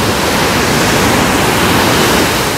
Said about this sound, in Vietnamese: Sáng nay cả nhà Liam đã có mặt tại bờ biển Quy Nhơn ha